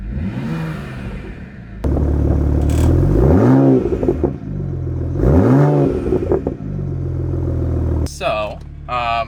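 A BMW engine revs twice in rising and falling sweeps, loud and close, with a low exhaust burble between, and a person talks over it at times.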